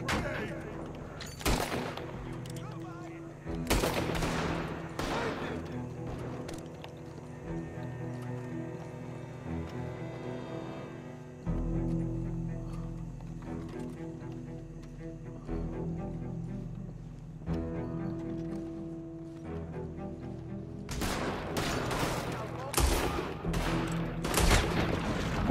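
Gunfire in the video game Red Dead Redemption 2: several sharp, loud shots in scattered bursts near the start and a denser volley at the end, over a low in-game music and ambience bed, with occasional hoofbeats.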